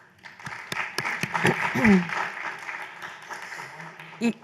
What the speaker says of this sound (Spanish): Les vamos a dar un gran aplauso a todos ellos.